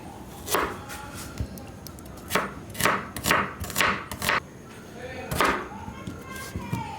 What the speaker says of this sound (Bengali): তেল ঝাল করার জন্য পেঁয়াজটা টমেটোটা কেটে নেবো।